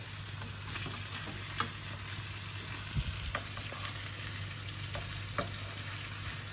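Fish fillets crackle and sizzle steadily in a hot pan while being turned over, with a handful of soft spatula taps and scrapes scattered through the continuous frying hiss.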